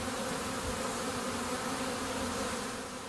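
A September honeybee swarm fills the air with a dense, continuous buzzing hum, many insects close by at steady loudness with no pauses and no voices.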